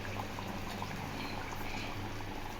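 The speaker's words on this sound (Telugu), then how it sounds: "ఇదిగోండి, బాగా ఉడుకు పట్టేసింది కదా." Pulusu curry made with egg and colocasia bubbles at a full boil in a pot, a dense, continuous burble of popping bubbles heard close up with no voices.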